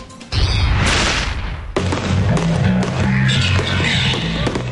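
Fireworks go off at a national fireworks festival in Marikina: a sharp burst, then a second heavy blast followed by rumbling, crackling booms that carry on loudly to the end.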